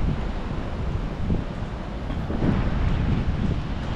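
Strong sea waves pounding the shore in Kuwait, with gusting wind buffeting the microphone, a continuous loud rushing roar with surges of surf and no voices.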